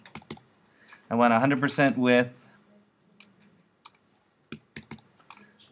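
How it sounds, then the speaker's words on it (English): Computer keyboard typing, sparse clicks and short bursts of keystrokes, close and light, with someone speaking briefly between them. "So I'm just going to type it in by hand."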